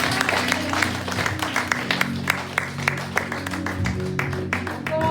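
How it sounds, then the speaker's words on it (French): A church congregation at a Sunday youth service applauds in thanksgiving, with irregular claps and sharp hand strikes over a sustained musical tone and some crowd murmur. "On applaudit le Seigneur en signe de reconnaissance"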